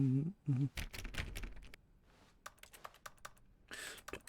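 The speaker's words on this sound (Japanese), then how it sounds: "A ボタンでカタカチャキーボード音がする" Keyboard clacking sound effect from The Stanley Parable: Ultra Deluxe, triggered by pressing a button: a quick run of sharp, irregular key clicks with pauses, plus a short voice at the start.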